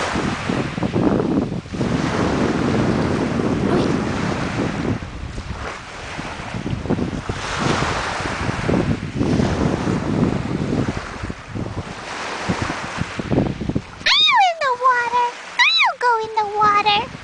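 Strong wind buffets the microphone over a continuous roar of ocean surf at a beach, steady and loud throughout, with brief high voice-like calls near the end.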